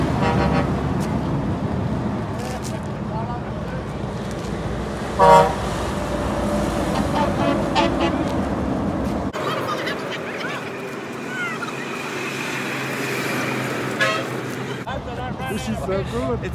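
Truck horns honk and toot repeatedly on a road just reopened toward Perth and Galton after a cyclone, with trucks that had waited two days, over steady traffic and engine rumble while voices talk nearby.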